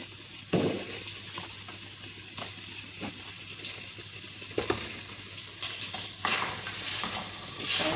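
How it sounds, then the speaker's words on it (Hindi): A masala mixture for crispy chops sizzles and fries in a pan while a utensil stirs and scrapes against the metal, producing a steady hiss broken by occasional clinks, close up with no talking. "इसको बस ऐसे भून देंगे"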